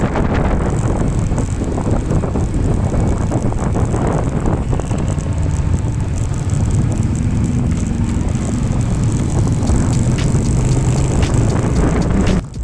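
Steady, heavy wind buffets the microphone in Lingayen, Pangasinan for the whole stretch, a constant roaring rush with no talk over it.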